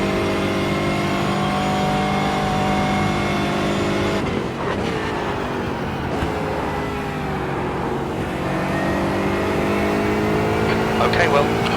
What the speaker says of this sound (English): Good straight line speed in the Vantage GT4 though.